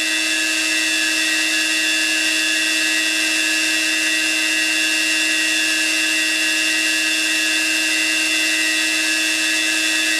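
Replica Ukrainian generator-motor running steadily near 19,000 RPM, a loud constant high-pitched whine with stable tonal hum bands and no talk, unbroken for the full length.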